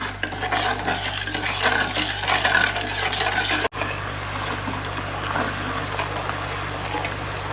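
Sugar syrup being stirred in a pan for pustapak, a sweet, giving a steady, continuous scraping and bubbling texture close by that breaks off for a moment midway before carrying on.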